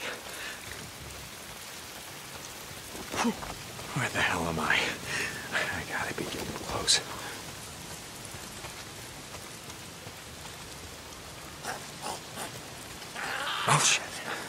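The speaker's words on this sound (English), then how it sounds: "If it's not the freaks, it's the goddamn rain." Steady rain patters through the open-world zombie game Days Gone, a constant hiss running under a man's muttered speech and occasional louder sounds.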